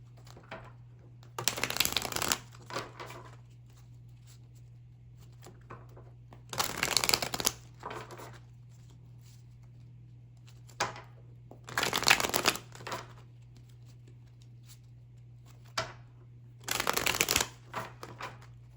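Tarot cards shuffled in four separate bursts of rapid riffling and slapping, each lasting about a second, with quiet pauses between them over a steady low electrical hum.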